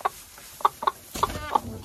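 Laying hens on straw bedding give a handful of short, separate clucks spaced irregularly over a couple of seconds, close and clear against a quiet background.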